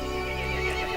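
A horse whinnies in the horror game Resident Evil Village, a single sustained neigh heard close and fairly loud over a steady droning background, with no talk.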